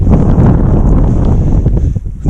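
Strong, gusty wind roars and buffets the microphone during frosty pike fishing outdoors. It is loud and continuous for the whole stretch, with no talk.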